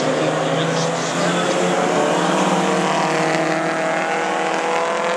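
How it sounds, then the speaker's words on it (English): Mini stock race cars roaring around the oval at Saratoga Speedway in Canada, a dense, continuous loud engine drone with shifting pitches as the pack runs close, steady throughout with no pause. "Jeremy Waxel out front, car number 96 right behind."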